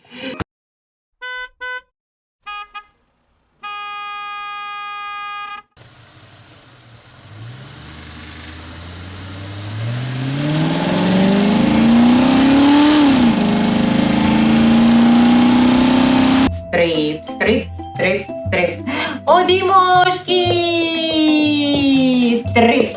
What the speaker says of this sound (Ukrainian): Машинки роблять бібі.